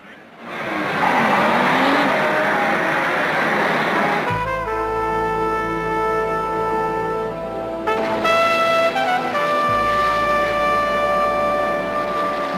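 Racing car engines roar together at the start of a Monte Carlo Grand Prix, a loud sustained chorus of revving motors with rising and steady pitched tones, set against a crowd backdrop.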